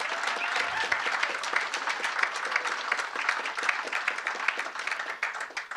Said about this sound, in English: So please give Jenny a big round of applause